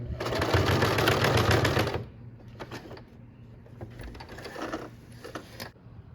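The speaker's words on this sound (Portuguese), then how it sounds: "eu giro novamente e passo mais uma costura em cima da outra" Sewing machine stitching a second seam over the first on a bag, a loud fast whirring run for about two seconds, then quieter intermittent bursts of mechanical stitching and clicking, close up with no talk.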